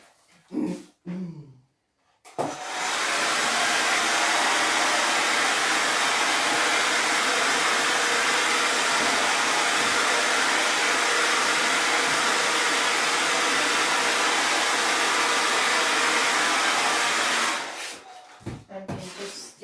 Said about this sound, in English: I'm going to give it a light blow with the hair dryer.